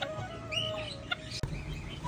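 A tiny chicken, billed as the world's smallest breed, gives faint, brief clucks and chirps over a quiet, steady background hum.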